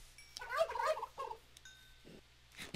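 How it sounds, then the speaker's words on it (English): A turkey in Minecraft gobbling in a short burst of rapid warbling calls, close and clear over quiet game ambience, followed by a few faint clicks. "There's a turkey!"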